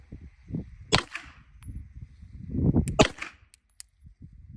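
Shots from an OA Defense 2311 full-size pistol at a shooting range, two sharp cracks about two seconds apart, close and loud, with low rumbling handling noise between them.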